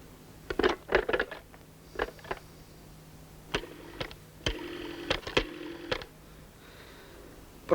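A telephone being dialed for a call, heard as a quiet series of short, separate beeps and clicks with uneven gaps between them, alone with no talking.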